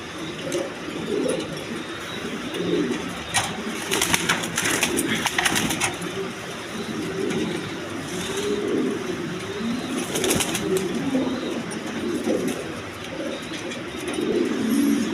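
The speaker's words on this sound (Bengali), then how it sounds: "দেখেন কবুতরগুলো সুস্থ সবল, খুব ছটপট করতেছে" Pigeons coo repeatedly in soft rolling bursts with occasional brief rustling and flutter-like noises, a continuous low murmur of cooing throughout with no talk.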